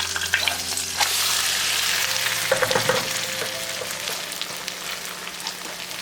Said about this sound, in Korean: 앞뒤로 노릇하게 빚어냅니다.